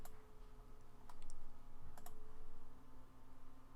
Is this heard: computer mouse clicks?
yes